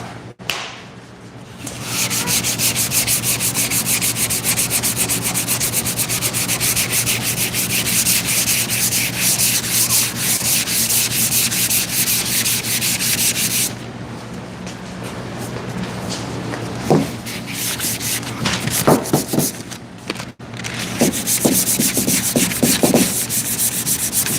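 Steady, loud abrasive sanding on the body of a 1968 Dodge Charger, a continuous close rasp that stops partway, followed by scattered scraping strokes and knocks.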